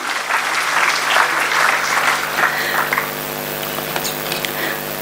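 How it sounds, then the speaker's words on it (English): A conference audience claps in a steady, loud round of applause that carries through the whole stretch without a break. "I think that goes for a round of applause for him."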